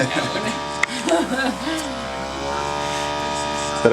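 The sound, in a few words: paint sprayer (airbrush) applying makeup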